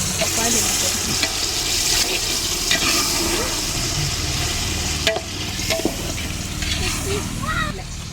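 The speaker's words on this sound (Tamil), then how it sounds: "சிக்கன் போட்டு நல்லா வதக்கலாம்" Chicken for biryani sautés in a pan with a loud, constant sizzle and occasional stirring clatter, and voices speak over the cooking.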